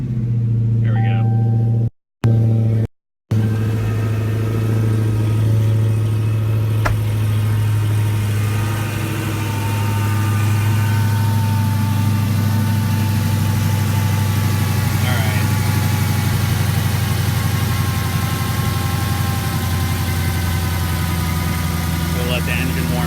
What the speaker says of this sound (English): Let the engine warm up here for a second, let that Supercharger get spinning